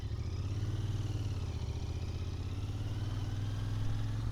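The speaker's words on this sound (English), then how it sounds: "Somebody's getting a new driveway, if you can hear that noise." Construction machinery building a new driveway in a residential neighborhood of St. Petersburg, a steady low engine rumble with clattering that holds at a constant level throughout, moderately distant and with no talking.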